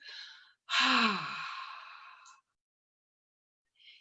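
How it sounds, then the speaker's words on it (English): A person exhales forcefully with a breathy HA sound, one long airy breath after a shorter one, close and clear, followed by silence and a faint breathy trace at the end. "when you exhale with the HA sound"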